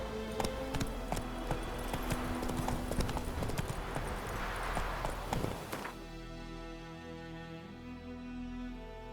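Hoofbeats of the horse Roach galloping in the video game The Witcher 3, a fast, steady clip-clop rhythm close by that carries on throughout, with the pace and texture changing after about six seconds.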